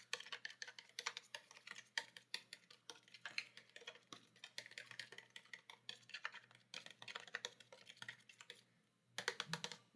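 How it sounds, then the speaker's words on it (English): A fork whisks eggs and milk together in a bowl, a fast, continuous patter of light, close clicks with brief pauses, steady throughout. "get yourself a fork or a little whisk and mix the eggs and the milk together"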